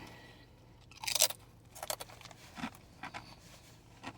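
Ruffles Flamin' Hot Cheddar and Sour Cream potato chips are chewed up close, giving a string of irregular, crisp crunches over a few seconds.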